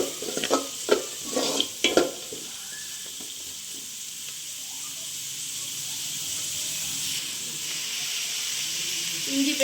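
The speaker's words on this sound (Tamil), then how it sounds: "கறி மிளகாயும் பச்சை மிளகாயும் போடுவோம் நல்லா கலந்து" Chilies and green chilies are stir-fried with onion in a pan for Sri Lankan kottu roti: a few quick spatula scrapes at first, then a steady, even sizzle.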